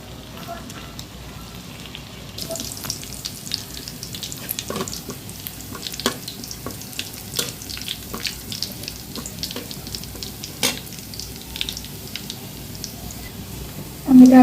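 Chopped onion and garlic frying in oil for a dal tempering give a continuous soft sizzle with scattered sharp crackles and light clinks of stirring, close by, ending in a brief louder burst.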